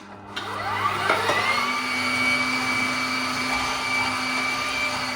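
An electric meat grinder mincing meat for cannelloni filling starts up and runs with a steady, loud motor whine and grinding drone, close by and continuous with no talking.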